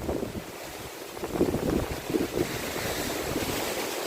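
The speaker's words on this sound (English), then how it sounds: "can you feel how windy it is? It's so windy out here." Strong wind blowing through an outdoor garden, buffeting the microphone with a rough, rumbling roar that swells and gusts unevenly throughout, no talking.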